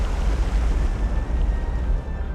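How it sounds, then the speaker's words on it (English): A ship's magazine detonates in the War on the Sea naval combat game, a dense, sustained low rumble with a roaring wash on top, steady and loud without sharp breaks. "That was a magazine explosion."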